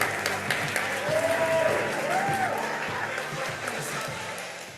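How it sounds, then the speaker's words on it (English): An indoor audience at a school celebration claps together, a broad steady wash of applause that swells slightly and then slowly fades, with a few faint voices mixed in. "let's give ourselves a round of applause"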